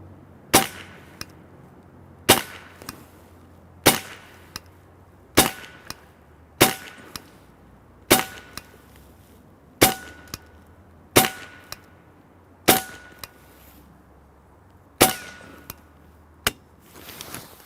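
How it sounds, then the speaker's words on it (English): A semi-automatic PCP air rifle in .22 caliber fires a dozen sharp, loud cracks at steady intervals of about a second and a half, each shot striking .50 caliber brass casings set on a table. "we had to shoot a couple pieces of our 50 cal brass on the table there."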